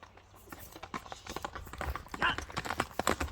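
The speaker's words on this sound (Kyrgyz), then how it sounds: "Мына жылоосун көрүңүздөр, аттын кеткенин көрдүңүздөр." A fast Kyrgyz racehorse gallops nearby with a quick, rhythmic clatter of hooves that grows louder over a few seconds.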